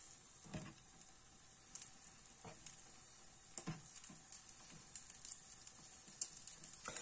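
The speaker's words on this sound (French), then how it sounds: "On va faire dorer justement nos rognons." Veal kidneys brown in a hot pan, giving a faint, steady sizzle with scattered soft crackles and pops, heard close and quiet with no voices.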